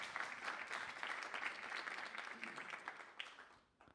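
Audience applause fills a conference hall at a food and data trust event, a dense, steady patter of many hands clapping for about four seconds before tapering off near the end.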